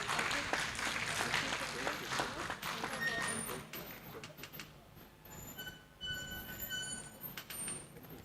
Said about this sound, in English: A round of applause to them, please.